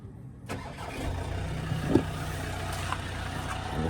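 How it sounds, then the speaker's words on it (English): Camper van engine cranking and catching at about half a second, then settling into a steady, close idle that runs to the end with a faint rattle; no talking. "We'll get the engine on"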